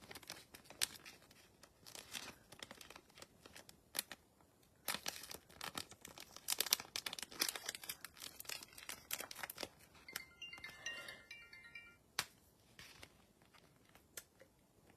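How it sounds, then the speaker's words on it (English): Packing tape rips off the roll in repeated sharp tearing bursts as a box is taped shut, mixed with crinkling handling noises, close and fairly quiet. "And now we'll tape it shut."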